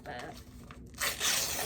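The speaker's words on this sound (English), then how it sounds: "warning for sounds of ripping and stuff" Paper is torn during decluttering, with a quiet rustle followed by a louder, close ripping tear, and a voice is heard briefly.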